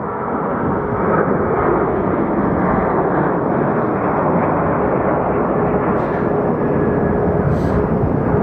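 An airliner roars on takeoff at Phoenix Sky Harbor Airport, a loud, steady broadband engine rumble that holds for the whole stretch with no voices.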